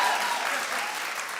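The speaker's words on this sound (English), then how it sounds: "Clap if you did." A talk-show studio audience claps in a dense, steady burst, fairly loud and continuous throughout, with faint crowd voices underneath.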